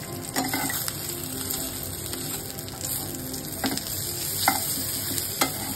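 Crabs fry in a little oil in a pan, with a continuous close sizzle and crackle and occasional sharper spits and pops, and no voices.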